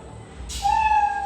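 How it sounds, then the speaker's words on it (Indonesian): A short, electronic cat meow sound effect from a coding game chimes in after a brief burst of noise, clear and bright against a quiet background. "maka suara yang muncul itu suara meong."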